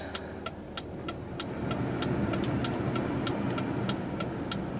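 Engine of a 2007 Chrysler Town & Country long-wheelbase minivan as it pulls out to drive on a cold day, a steady mid-pitched hum rising slightly, with a regular clicking, likely the turn signal, ticking over it.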